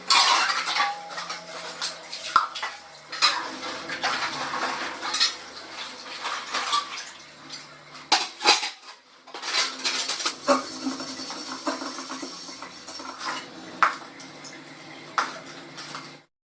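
Dishes, plates and pots being washed by hand, with close clinking of metal cutlery and utensils, scraping and knocks of pans, and running water in short busy bursts throughout, with no voices.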